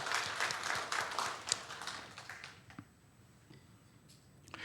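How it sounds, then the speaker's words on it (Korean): A church congregation at a New Year thanksgiving service claps together in dense, fairly loud applause that fades away over a few seconds into near quiet. "하나님께 감사의 박수 한번 올려드리실까요?"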